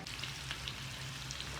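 Soft, steady sizzle of chicken frying in oil for a mango chicken pickle, low and even with no talking over it.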